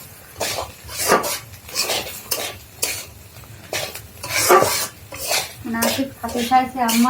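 Potatoes being fried in a pan in a home kitchen, with a metal spoon scraping and clanking against the pan in repeated bursts over a low sizzle, close and fairly loud; brief voices can be heard near the end.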